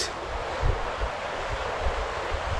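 A river in the Langtang Valley of Nepal rushes steadily as a broad, continuous roar, with low gusts of wind buffeting the microphone at intervals; no one speaks.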